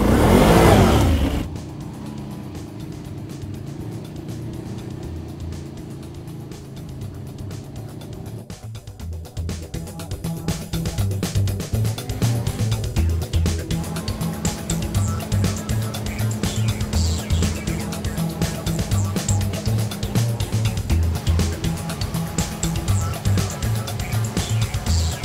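Can-Am Renegade 800R quad with a V-twin engine accelerating, a steady, fairly loud engine drone that builds in intensity after a quieter stretch and holds throughout.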